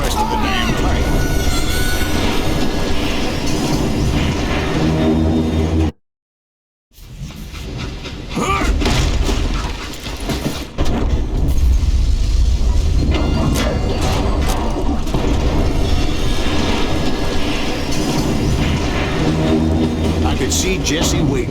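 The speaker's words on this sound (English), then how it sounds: "It was then that Jesse detached the express car from the rest of the damn train." A train with an express car in Call of Juarez: Gunslinger rumbles loudly and continuously, breaking off for a moment before resuming, while a voice talks over it.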